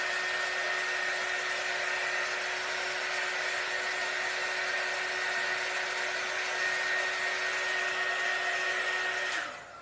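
A hair dryer blows steadily on a fresh layer of paint, a loud, even whirring roar that holds for nearly ten seconds before it is switched off abruptly at the end.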